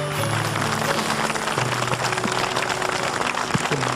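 A studio audience gives steady, dense applause for the whole few seconds, with some faint tones sounding underneath.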